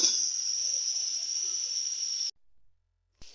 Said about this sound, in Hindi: अब इस मसाले को अच्छी तरह मिक्स करके मसाले को अच्छी तरीके से भून लूँगी